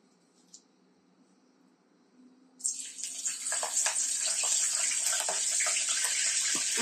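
Curry leaves hit hot oil, and a faint quiet stretch breaks into a sudden loud, hissing sizzle that stays steady and close to the end.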